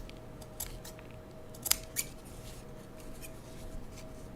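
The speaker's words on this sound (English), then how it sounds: "and then you trim this off" Scissors snip through felt while trimming a gingerbread ornament, producing a few crisp, close cuts that are sparse and quiet against a low background hiss.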